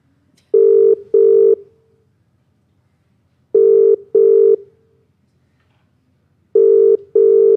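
A telephone rings with three loud double-burst rings spread across the clip, each pair of tones sharp and close, separated by silence.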